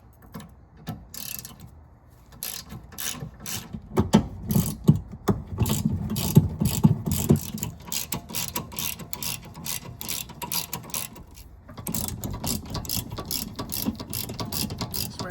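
A wrench with an extender ratchets on the rear sway bar end link bolt of a 2009 Saab 9-3 Aero XWD, producing bursts of rapid metallic clicking with brief pauses and low mechanical rumble in between.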